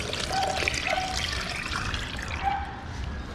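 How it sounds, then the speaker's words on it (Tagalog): Water pours into a bird feed mix, making a steady splashing trickle that stays close and moderately loud for a few seconds. "dagdagan natin ng tubig."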